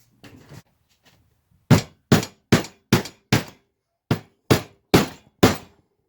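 A hammer strikes repeatedly up close in two quick bursts, five sharp ringing blows, a short pause, then four more, each loud with a brief metallic ring, after some faint rustling at the start.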